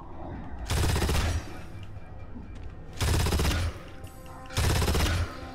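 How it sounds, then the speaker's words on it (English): Gorgon burst pistol from Gears of War 2, a high-caliber video game handgun, fires three loud bursts of rapid shots, each roughly half a second long and spaced evenly about two seconds apart. "The Gorgon Pistol. A high caliber burst pistol."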